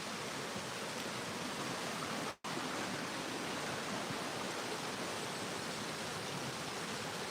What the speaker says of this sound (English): So there's a waterfall on this side.